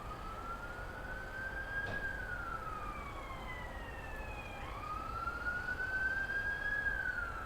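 An emergency vehicle siren wails in long rising and falling sweeps, somewhat distant and moderately faint over a steady bed of outdoor traffic-like rumble.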